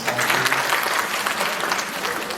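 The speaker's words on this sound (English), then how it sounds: "A round of applause for Miss." An audience at a teachers' convention breaks into applause, a full, crackling burst of clapping from a large crowd, steady and close for a couple of seconds.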